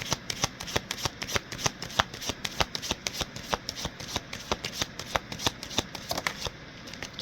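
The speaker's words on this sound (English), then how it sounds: "I just want to draw one final card from the tarot" Tarot cards being shuffled by hand: a rapid, even riffle of crisp card snaps, close and steady throughout, with no voices.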